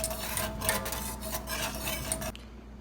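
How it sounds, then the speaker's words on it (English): Pasta sauce mixture whisked in a pot, a fast continuous metallic scraping and swishing that stops abruptly near the end. "I'm just going to take a whisk and whisk that"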